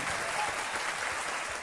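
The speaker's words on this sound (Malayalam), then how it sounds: "നിങ്ങളുടെ കയ്യടികൾ നിർത്താൻ പാടില്ല" A studio audience on the Aap Ki Adalat television show claps steadily, a dense, even patter of many hands at moderate volume with no pause.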